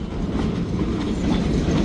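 A freight train hauling pulpwood cars rumbles past close by, a steady low roar with faint clickety-clack from the wheels, continuous and without talk.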